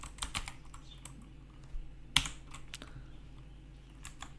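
Clicky computer keyboard typing while writing code, irregular bursts of close keystrokes with short pauses and one sharper key strike midway.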